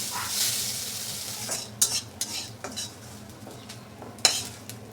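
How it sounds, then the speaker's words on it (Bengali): Leafy greens frying with salt in a pan for a Bengali koi fish bharta, a soft steady sizzle broken by scattered clinks and scrapes of a utensil stirring against the pan. "এই যে শাকগুলো ভেজে নেব লবণ দিয়ে দেবো"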